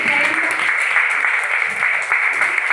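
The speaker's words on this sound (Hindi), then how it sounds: "तो अपने लिए खुद के लिए ताली बजा लीजिए और स्वागत कर लीजिए।" Audience at a Hindi fortnight closing ceremony applauding themselves, a dense, steady wash of many hands clapping throughout, with a voice faintly underneath.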